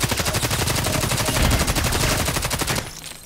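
Sustained rapid automatic fire from an HK 243 light machine gun in the Contract Wars shooter game, a loud, dense burst of shots lasting nearly three seconds before cutting off.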